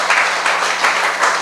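A church congregation claps in applause during a sermon, a dense, loud burst of hands with rhythmic swells.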